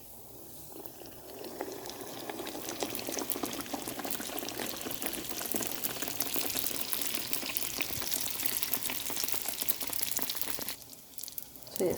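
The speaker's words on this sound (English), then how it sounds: "My oil is nice and hot. So I'm going to fry my small one first" Aloo pies frying in hot oil give off a steady, close bubbling sizzle that holds for nearly the whole stretch, then briefly drops away near the end.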